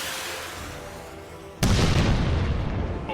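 A sudden loud explosion from a Guard missile launcher firing atop a house, heard alone: a sharp onset around the midpoint followed by a sustained, roaring rumble that slowly fades.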